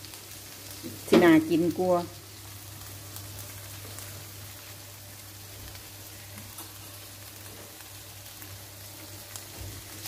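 Pieces of naem, Thai fermented pork, frying in a pan with a steady soft sizzle like light rain, while someone speaks briefly near the start.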